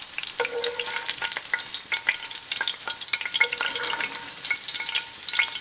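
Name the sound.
beef chicharrones frying in fat in a pan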